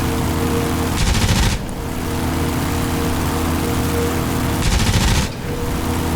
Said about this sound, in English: so we got the left guns working